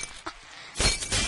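Glass shatters in the Happy Wheels video game: a small clink first, then a loud crash of breaking glass followed by a second burst of shards.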